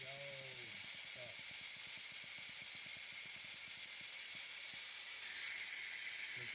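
Old, dirty brake fluid is drawn out of an opened brake line fitting on a BMW Z3 with an M44 1.9 engine, giving a steady close hiss with faint rapid clicking that grows louder near the end.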